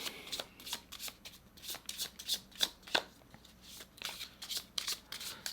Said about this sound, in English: let's start shuffling